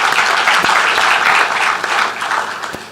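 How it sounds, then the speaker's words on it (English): Forum audience at a closing ceremony breaking into a round of applause, loud dense clapping filling the room evenly and tapering slightly toward the end. "I think we should give ourselves a round of applause"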